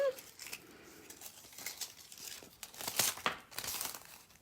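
Foil sheets crinkling and rustling close by as they are pressed onto acrylic nails during a fill with French tips, a steady run of crisp crackles and soft tearing sounds with no talking.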